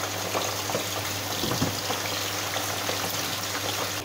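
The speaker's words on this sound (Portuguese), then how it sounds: "Já vou adicionar as batatas à frigideira para fritar." Potatoes fry in a pan with a steady, dense sizzle and crackle that holds evenly throughout, close by and without any talking.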